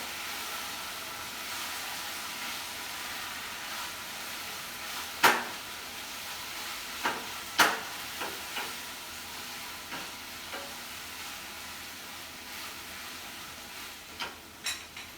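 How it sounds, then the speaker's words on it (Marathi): Fried potatoes for chilli potato are tossed and stirred in a pan, giving a low steady sizzle broken by scattered scraping clacks of a spatula, loudest in a few sharp strokes partway through. "आता आपण हे तळलेले बटाटे ह्यात घालूया आणि छानपैकी परतून घ्यायचे."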